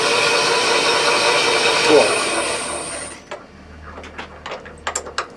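Steady whirring of a lathe turning while a centre drill bores into the workpiece, fed slowly and cautiously, fairly loud and continuous before cutting off abruptly, leaving faint clicks and light handling noises.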